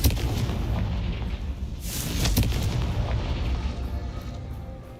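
Confringo blasting spells exploding in the Hogwarts Legacy video game, a sustained rumbling roar of booms with a sharp, bright burst near the middle, loud throughout and with no talking.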